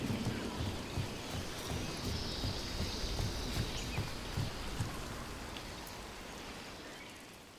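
Steady rain falls throughout in the Dragon Age video game, a dense even hiss with scattered drops, near and continuous, fading slightly at the end.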